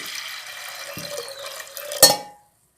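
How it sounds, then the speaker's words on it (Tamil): Water pours steadily into a cooking pot for a mango kuzhambu, a close rushing flow that ends with a sharp metallic clink and then fades to silence. "தண்ணி ஊற்றிருக்கேன்"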